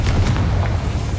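A Confringo blasting spell explosion in the Hogwarts Legacy video game, a short loud booming burst with heavy low rumble that quickly fades.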